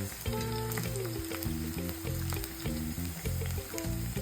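Dumplings sizzle loudly and steadily frying in a hot pan, a continuous crackling fry with no talking.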